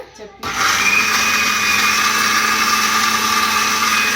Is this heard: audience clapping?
no